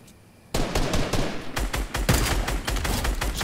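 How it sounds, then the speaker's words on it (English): After a quiet start, rapid bursts of gunfire from Fortnite erupt and keep going, dense repeated shots close and loud with no talk. "Shoot, my man, shoot!"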